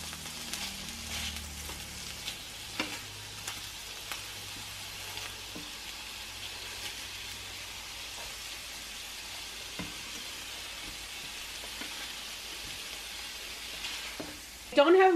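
Salisbury steak patties frying in a pan over moderate heat give a steady, soft sizzle throughout, with occasional light clicks and scrapes and a louder knock at the very end.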